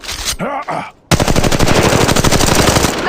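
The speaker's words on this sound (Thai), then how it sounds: "ฉันถูกพบแล้วกำลังโดนยิง" Loud, sustained automatic gunfire in Apex Legends Mobile while playing Bloodhound, bursting in as a dense rapid rattle after a brief voice line and a moment of near silence.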